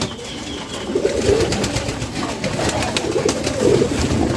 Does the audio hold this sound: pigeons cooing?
yes